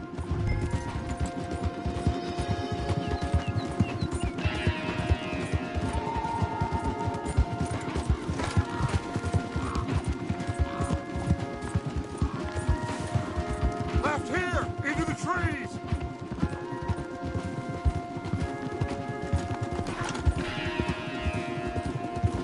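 Rapid hoofbeats of several horses galloping hard through the trees in Red Dead Redemption 2, a dense, loud, rhythmic clatter with shouted voices, a whinny and score music over it.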